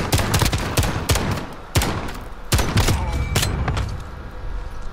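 Pistol fire in a video game gunfight, a run of sharp close shots in irregular bursts with several louder cracks standing out, no talking.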